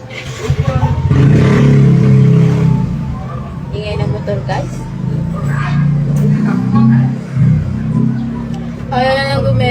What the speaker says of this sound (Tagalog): Ingay ng motor guys.